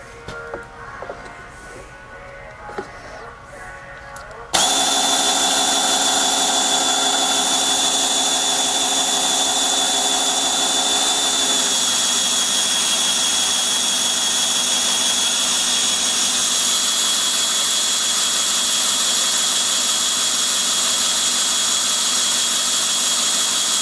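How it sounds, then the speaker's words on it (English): A Matco fluid transfer pump starts up and runs steadily, pumping STP Dexron VI automatic transmission fluid into a Cadillac's transmission; a loud, constant mechanical hum and whine that holds evenly after a quieter opening stretch. "So we'll get that all set up and start pumping the fluid in."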